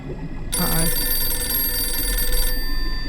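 Telephone ringing in the video game Blacksad: Under the Skin, a sustained bright bell-like ring lasting about two seconds, loud and close, over low background music.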